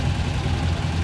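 A Saab Sonett III coupé idles during a historic Monte-Carlo rally passage in Bar-sur-Aube: a steady, close, low engine rumble with no break.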